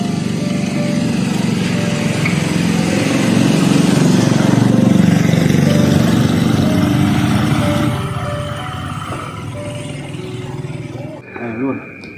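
Small motorcycle engine runs close by at a steady, buzzing drone that grows louder midway and then eases off, with people talking over it at night in a Sundanese village.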